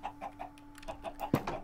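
Minecraft chicken in the Sky Factory 3 modpack clucking: a quick rhythmic series of soft clucks with one sharper cluck near the end, faint and alone.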